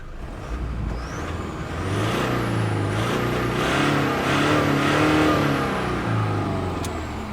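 A Toyota Fortuner SUV engine revs up loudly and holds a high, rising roar, easing and climbing again, close by with no talking.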